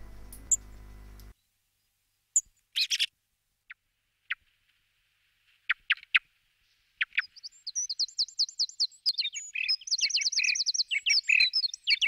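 A young thrush gives sharp, scattered chirps and calls, sparse at first then building into a busy run of rapid high tweets toward the end, close and clear with no talk.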